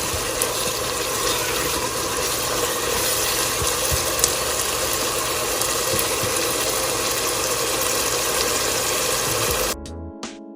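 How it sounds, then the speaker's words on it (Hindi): Masala spice paste fries in oil with splashes of water in a pan for arvi (taro root) curry, giving a steady close sizzling hiss that cuts off abruptly near the end. "चार से 5 मिनट हो गए हैं मुझे मसाला भूनते हुए।"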